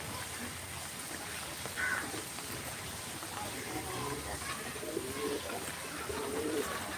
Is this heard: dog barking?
no